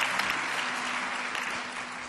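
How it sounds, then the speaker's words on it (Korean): An audience at a Korean church gathering applauds in encouragement, a dense, steady wash of many hands clapping together at full strength, close and continuous, with no talking. "우리 큰 박수로 격려하고"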